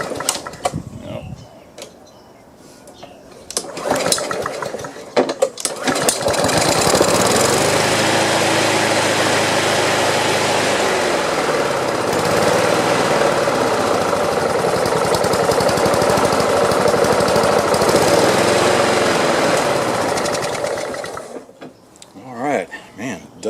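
A Snapper Ninja lawn mower's small engine catches and runs steadily for about fifteen seconds, loud and close, before cutting out, with brief rattly sputters at the start and end.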